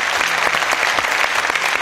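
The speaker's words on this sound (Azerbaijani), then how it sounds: "Alqışlar." Audience at an award ceremony claps steadily, a dense continuous round of applause held at even strength throughout.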